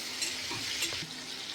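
Prawns and green chillies fry loudly in a pan, a dense close sizzle with brief stirring scrapes over a short stretch, no voices.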